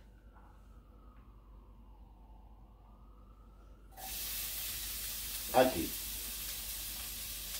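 Chopped onion hitting three spoonfuls of hot olive oil in a cooking pot, bursting into a loud steady sizzle that keeps hissing, with a brief clatter partway through and a short spoken word.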